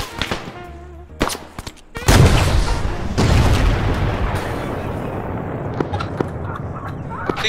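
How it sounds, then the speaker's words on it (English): A large explosion in Arma 3, a heavy booming blast followed by a long rumbling tail, preceded by a few sharp shots and clicks. "Jackson, did you hit the button to blow it up? It was exploding."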